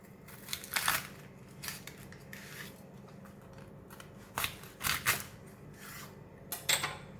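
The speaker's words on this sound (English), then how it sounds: "I'm going to start off with cutting the bok choy first" Bok choy being cut in half with a knife, a few scattered crisp crunching slices and rustles against a faint background hum, close and fairly quiet, with no talking.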